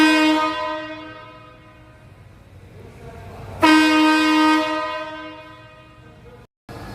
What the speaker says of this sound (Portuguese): Buzina marítima para o seu troller?